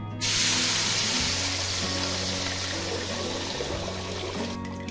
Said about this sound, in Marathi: तेल गरम झालेलं आहे मिश्रण करून ठेवलेलं हे आता त्या तेलामध्ये टाकायचं आहे